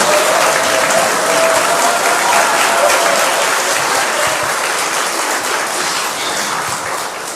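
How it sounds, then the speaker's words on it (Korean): A church congregation gives loud, sustained applause at a youth service, many hands clapping in a thick continuous roar that fades slightly toward the end, with no voices over it. "다시 한번 박수 부탁드리겠습니다"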